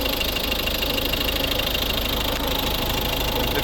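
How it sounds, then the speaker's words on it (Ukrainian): The 1.6 D2 diesel engine of a 2011 Volvo S40 running steadily at close range, with an even knocking idle and turbo whir throughout. "Ось робота двигуна, турбіна гарить"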